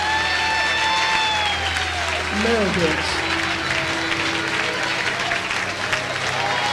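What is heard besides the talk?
congregation applauding loudly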